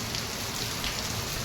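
Steady rain falls on a village in Gujarat, a close, even hiss of drops pattering on surfaces that holds constant for the whole short stretch, with no talk.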